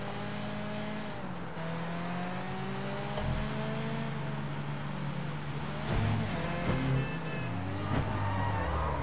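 Van engine driving in the video game Sleeping Dogs, a steady mid-loud motor drone with rising and falling revs and brief surges, alone without talk.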